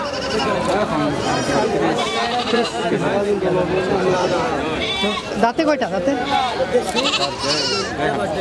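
Goats bleating at a busy outdoor goat market in Gafargaon, intermittent calls rising over constant crowd chatter and people talking nearby.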